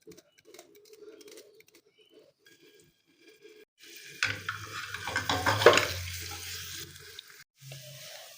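Chopped onion dropped into hot mustard oil for a baghar tempering bursts into a loud, close sizzle after several quiet seconds of faint kitchen clatter. The frying swells and crackles, then cuts off abruptly, and a brief low hum follows.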